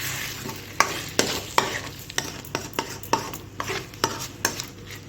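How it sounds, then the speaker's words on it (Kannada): Egg bhurji made with three eggs fries in a pan under a soft steady sizzle, punctuated by a dozen sharp scraping knocks of a spatula stirring against the metal at an uneven rhythm. "ಚೆನ್ನಾಗಿ ಫ್ರೈ ಮಾಡೋಣ"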